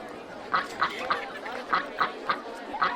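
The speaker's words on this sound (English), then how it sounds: "we'll get the ducks to quack at you" Several ducks quacking in RollerCoaster Tycoon, about eight short, evenly spaced quacks over a steady background murmur of park noise.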